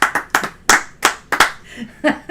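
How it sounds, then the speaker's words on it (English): A few hands clap in an irregular, sparse burst, close and distinct, with separate sharp claps rather than a full crowd. "applause."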